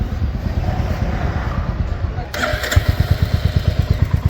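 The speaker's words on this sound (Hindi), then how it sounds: "थोड़ा सा यहाँ से कुछ रैटलिंग का नॉइस आ रहा है साइलेंसर से कहीं से" A Royal Enfield Hunter 350 single-cylinder engine with a tappet rattling fault runs nearby, its low thumping idle shifting partway through into a sharper, faster beat with a metallic ticking edge.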